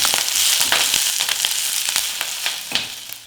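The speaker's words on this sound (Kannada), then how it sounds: "ಸೊಪ್ಪು ಹಾಕಿದ್ಮೇಲೆ 1-2 ನಿಮಿಷ ಈ ರೀತಿ ಹುರ್ಕೋಬೇಕು." Drumstick leaves stir-fried in oil on a low flame, giving a steady close crackling sizzle with sharp scattered pops throughout, no voices.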